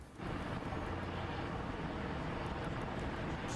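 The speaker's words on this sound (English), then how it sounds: "Sheriff's helicopter, media helicopters above, a lot of noise." Sheriff's and media helicopters hover overhead during a police standoff after a pursuit, a steady loud roaring drone that fills the air without letup and has no talking.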